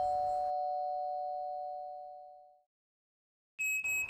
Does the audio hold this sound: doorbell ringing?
yes